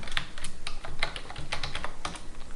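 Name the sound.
typing on a computer keyboard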